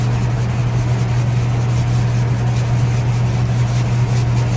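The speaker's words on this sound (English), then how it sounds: "I'm wet sanding this spot putty off because I want it to be slick" Steady wet sanding of spot putty on a coupe body before paint, a continuous close rubbing and scraping with a constant low hum underneath and no pauses.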